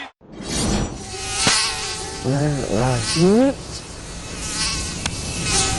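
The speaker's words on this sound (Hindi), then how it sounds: "इतने मच्छरों में कोई कैसे सो सकता है?" Mosquitoes whine continuously through a TV advert for mosquito repellent, with a bright, thin buzz over a busy background of other sounds and a sliding voice-like tone partway through.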